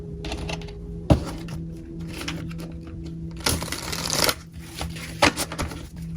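Tarot cards shuffled by hand, soft papery riffles and flicks recurring in short bursts with a few sharp snaps, close and fairly quiet over a steady low hum, with no talking.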